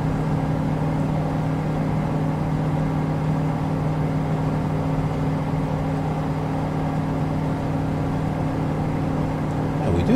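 Propeller plane engine in Flight Simulator 2020 holding a steady droning hum with strong tonal harmonics, throttled back and running evenly for the full stretch, with no voices over it.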